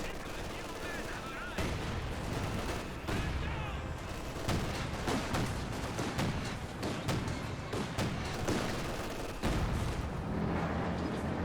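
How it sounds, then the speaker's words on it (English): A Katyusha rocket barrage in Company of Heroes 2 pounds the battlefield with a dense, continuous roll of loud explosions and crackling gunfire, while a voice commentates over the din. "Here's Katusha Barrage"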